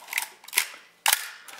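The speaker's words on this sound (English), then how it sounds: "you can see the shutter is working well." A Nikon F2A film camera shutter fires in a few crisp mechanical clicks, close and dry, with a sharp loud snap near the end.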